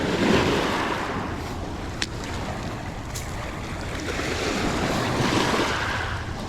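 Steady wash of waves rolling onto a limestone beach on Kelleys Island, a continuous broad surf roar with wind buffeting the microphone, no voices.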